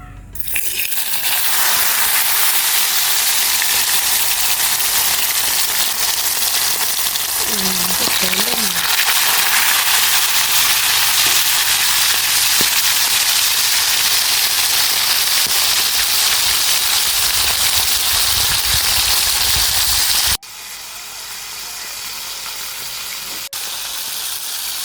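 Fish sizzling as it fries in hot oil at home for a pepper fish curry, a steady loud crackle holding for about twenty seconds before it drops off and turns quieter.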